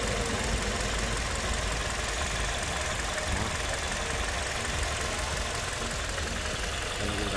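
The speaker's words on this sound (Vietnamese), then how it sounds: "máy nổ rất êm các bạn, rất đều tiếng các bạn nhé" The 2.0-litre engine of an 8-seat automatic car idles with a steady, even hum, heard up close with no other sound.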